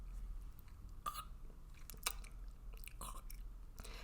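A voice faintly imitates someone chewing nuts, making soft, irregular wet clicks and smacks at close range over a quiet background.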